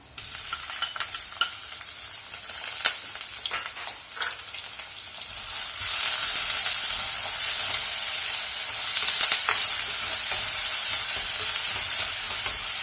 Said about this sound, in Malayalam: ഇതിലേക്ക് നമുക്ക് ചതച്ച് വെച്ചിരിക്കുന്ന ഉള്ളി ചേർക്കാം.